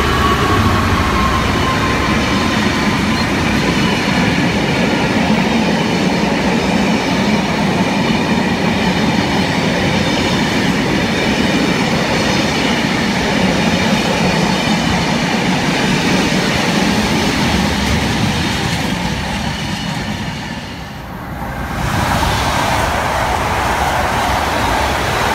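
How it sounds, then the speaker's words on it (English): An EWS Class 66 freight train passes through Ealing Broadway station in the UK, a loud sustained roar of diesel engine and wagons with rhythmic clickety-clack, easing briefly near the end as it goes by. "And we have another freight train passing through."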